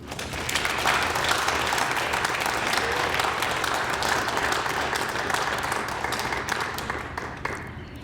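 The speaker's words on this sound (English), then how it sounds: "could we have another round of applause for all of our winners?" An audience at a prize ceremony gives winners a sustained round of applause, dense many-handed clapping holding steady and full before gradually thinning toward the end.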